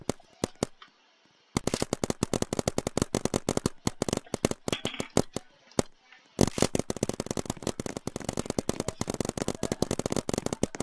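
Rapid video-game gunfire crackles in dense automatic bursts, with short pauses between volleys, loud and close throughout.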